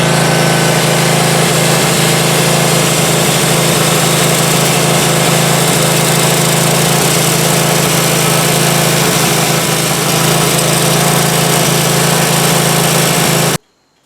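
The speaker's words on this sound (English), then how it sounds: "just give it a few while the engine is running and the wheel is running" A leaf vac engine runs at a steady loud drone while a flap wheel sands its impeller, the noise continuous and unbroken until it cuts off abruptly at the end.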